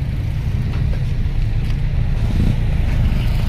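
A tractor on the road towing a second tractor behind it, a steady low diesel engine rumble running throughout with slight swells in loudness and no talk.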